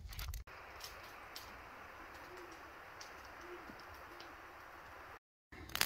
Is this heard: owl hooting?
yes